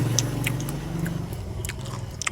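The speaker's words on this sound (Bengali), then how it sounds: "আগে হচ্ছে মুড়িটা খাই" Close, crunchy chewing of puffed rice (muri) mixed with spices, a steady run of crisp bites and mouth noises with no talking.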